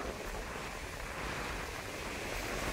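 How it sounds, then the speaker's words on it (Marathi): A strong wind blows at the sea during rod fishing, making a dense, continuous rushing roar that mixes with surf and buffets the microphone. It is loud and even throughout, with no voices. "मेन म्हणजे वारा जोरात आहे"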